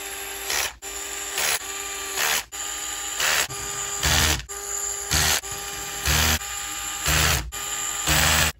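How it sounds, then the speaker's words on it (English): A DeWalt cordless drill on a low clutch setting drives small screws into the frame of an OMP Hobby M4 model helicopter, whirring in about nine short, even bursts separated by brief pauses, close up and alone. "We're gonna come back with the good old DeWalt low chuck setting and tighten everything up."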